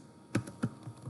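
A few separate key presses on a computer keyboard while coding HTML heading tags, three or four soft clicks spaced about a quarter second apart over low room noise.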